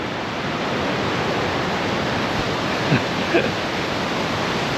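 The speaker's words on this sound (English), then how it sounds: "this is the first time we came so close to water" River water rushes beside the trail on the Everest Base Camp trek in the Himalayas, a loud, continuous broadband roar that holds steady without talk.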